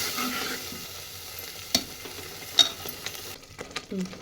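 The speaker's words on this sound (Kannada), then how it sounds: "ಎಣ್ಣೆ ಒಳಗೆ ಚಲೋತ್ನಾಗ ಸ್ವಲ್ಪ ಹೊತ್ತು ಕುದಿಸನ್ರಿ" A spiced mixture simmers and sizzles in oil in a home kitchen, a soft steady hiss broken by a few sharp clinks of stirring, fading toward a quieter bubbling at the end.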